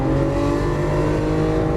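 A Lamborghini Aventador LP700-4 on the Exotic Racing Las Vegas track roars loudly and steadily up close as it accelerates, with no voices.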